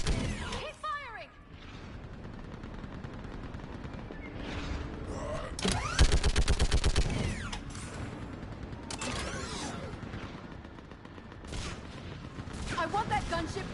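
Sci-fi weapon fire in Mass Effect 3 during a battle, scattered shots and a rapid burst of regular cracks midway, with voices calling out over a busy, mechanical background.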